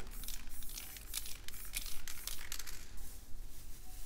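A plastic bag crinkles and crumples in repeated close, bursty handlings while it is pressed into wet spray paint for spray paint art.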